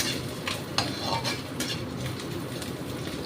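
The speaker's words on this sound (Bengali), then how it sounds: "এবার দিয়ে এগুলোকে একটু নেড়ে নেব।" Oats pulao being stirred in a pan on the gas, with a steady scraping, clinking rhythm of a utensil over a soft background sizzle, close and alone.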